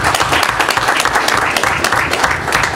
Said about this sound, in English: Let's give the Attorney General and his staff an applause for the negotiations